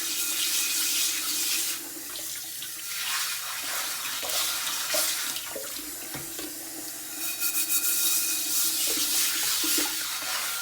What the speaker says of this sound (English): So I'm hitting it with a brush.